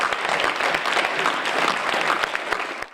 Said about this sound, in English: let's give him his just due, an applause and appreciation